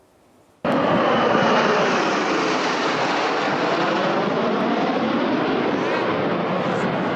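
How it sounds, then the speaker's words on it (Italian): Frecce Tricolori aerobatic jets roar at an air show, a loud, dense, steady engine rumble that starts abruptly and fills the scene without letting up, with no talking. "Il rombo dei motori, 10, come la squadra delle frecce tricolori, pronte a colorare il cielo di verde, bianco e rosso"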